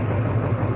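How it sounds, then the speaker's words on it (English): A truck engine idles in a steady, low rumble without pause, a deep heavy drone with faint vibration throughout. "As you can hear the truck running in the background"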